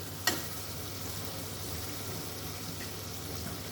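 Water poured into spice paste frying in a pan for a Bengali potol dorma with bhetki fish, a brief splash at the start then a steady low sizzle and bubbling that holds without talk.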